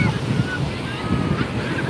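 Continuous rushing surf as sea waves wash up the beach at night at Cox's Bazar, with steady wind noise over the microphone and no clear pauses.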